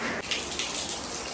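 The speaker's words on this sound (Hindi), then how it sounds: "और बाहर बारिश हो रही थी" Steady rain falls outside, a dense continuous hiss and patter with faint splashy bursts, moderately loud and unbroken, with no talking over it.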